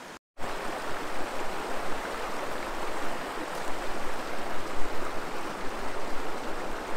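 Spring water splashes and pours steadily while a face is rinsed after a traditional shave outdoors in the mountains, a continuous close rushing wash with no talk.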